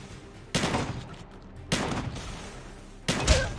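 Three heavy shotgun blasts in a shotgun-only first-person shooter match, each a loud, close boom with a short rumbling tail, spaced about a second apart.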